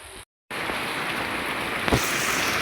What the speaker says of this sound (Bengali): এই যে দেখেন বৃষ্টি শুরু হয়ে গেছে।